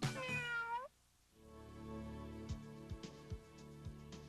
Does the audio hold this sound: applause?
no